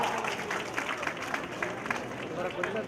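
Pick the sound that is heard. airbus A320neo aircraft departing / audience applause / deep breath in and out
audience applause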